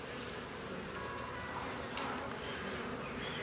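Honey bees buzz faintly around a hive in a bee yard on a warm day, a low continuous outdoor drone with one brief tap near the middle.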